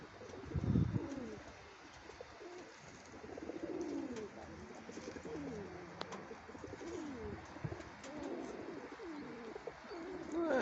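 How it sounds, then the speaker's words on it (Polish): A pigeon coos repeatedly in soft, low, rolling phrases from close by, with faint background murmur and someone speaking briefly. "I ciekawy gołąb, no."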